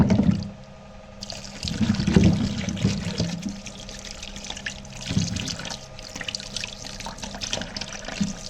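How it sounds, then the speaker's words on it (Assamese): Peeled carrots rinsed under running tap water at a sink, a steady pouring and splashing stream that swells and fades as the carrots are turned beneath it, close by with no talking. "গাজৰখিনি ধুব লৈছোঁ।"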